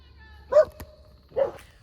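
Two short barks from a dog ring out at a forest campsite, about a second apart, fairly close and clear against a quiet background.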